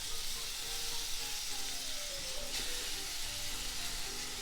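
Sliced onions frying in a pan with lightly golden garlic for fish in crazy water, a soft, steady sizzle and hiss with faint stirring, close and quiet, no voices.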